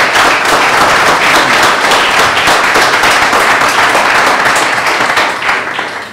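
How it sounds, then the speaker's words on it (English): Loud, sustained audience applause after a conference talk on CSS architecture for single page applications, a thick, continuous clatter of many hands that tapers slightly at the end. "We'll just get a round of applause for that"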